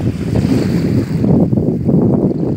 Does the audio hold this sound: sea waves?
yes